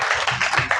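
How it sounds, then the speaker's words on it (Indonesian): At a film press conference, the audience applauds the actor Dion Wiyoko with a short, dense patter of many hands clapping together. The sound is loud and close and lasts under a second. "Dion Wiyoko, boleh kasih tepuk tangan dong untuk actingnya"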